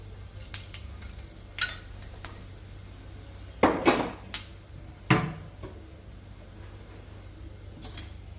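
Fennel seeds fry in a pan for a potato and coconut stir-fry, with a soft low sizzle under a few sharp metallic clinks and scrapes of a spoon against the pan, close and without talk.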